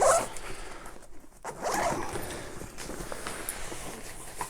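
A Cabin Max cabin-sized backpack being unzipped to reach packing cubes inside, with close, raspy zipper pulls in several strokes and a brief pause partway, without speech.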